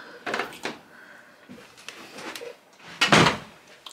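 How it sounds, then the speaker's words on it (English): A bedroom door closes indoors with a firm thud, preceded by softer handling knocks and rustles, the main close landing near the end as a single loud, close impact. "Let me close my room door too."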